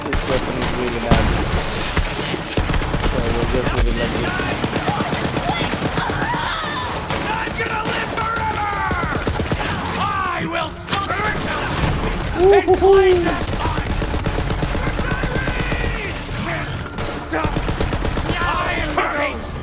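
Rapid bursts of gunfire from a weapon in Borderlands 3, loud and sustained across the scene, mixed with explosive booms and voices shouting over the shooting.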